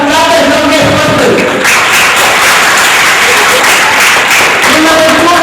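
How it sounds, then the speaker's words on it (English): An audience bursts into loud, sustained clapping at an award event in southern India, a dense crowd roar following a brief voice at the start and fading slightly toward the end. "clap as long as possible"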